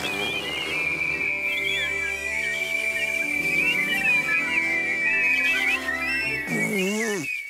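Sustained high whistling tone held for several seconds, wavering slightly over a soft musical backing, breaking off near the end.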